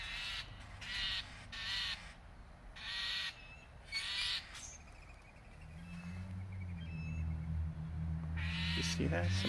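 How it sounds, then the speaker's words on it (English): Several crows caw in repeated harsh bursts, some close and some farther off, while a low droning rumble builds in the background toward the end. "Seems like a bunch of birds are coming in here."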